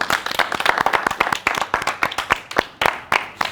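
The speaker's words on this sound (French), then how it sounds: "On applaudit pour Emma" Studio audience applauding a contestant on a quiz game show, a steady run of sharp, close hand claps forming brisk applause without speech.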